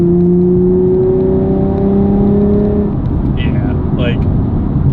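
A Nissan 350Z with an aftermarket exhaust accelerates in fourth gear, giving a loud, steady low engine drone with rising tones, heard from inside the car.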